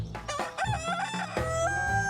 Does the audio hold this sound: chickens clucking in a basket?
yes